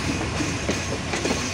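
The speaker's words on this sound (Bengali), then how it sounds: "এটি 6 নম্বর প্ল্যাটফর্মে ইন করলো ডাউন নীলসাগর এক্সপ্রেস ট্রেনটি" The down Nilsagar Express rolls in beside platform 6 at Kamalapur station, its coaches giving a loud, steady rumble with rhythmic wheel clatter close by, and no talk.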